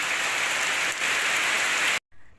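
Rain falls steadily on a vegetable garden, a dense close hiss of drops that cuts off abruptly near the end, leaving faint quiet rain.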